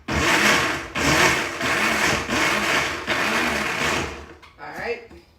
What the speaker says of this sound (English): we're going to put that in there and blend